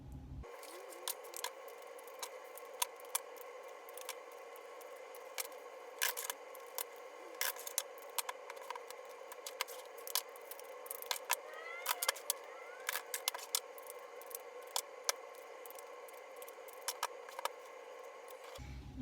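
Tarot cards riffle and shuffle steadily with soft, rapid flicks and occasional sharper snaps, close and quiet, with no talking.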